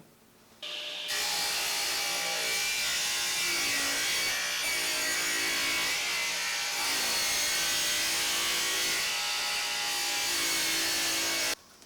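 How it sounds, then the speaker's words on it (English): A table saw rips wood pushed through the blade with a Microjig gripper, the cut droning loud and steady for about ten seconds as the wood rasps against the blade, with a few small dips. "This is the best way to push a piece of wood through a saw blade that I have ever seen."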